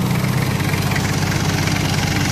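A 1995 Isuzu Panther engine idles steadily at close range, a continuous low rumble with even mechanical vibration and no pauses or voices throughout.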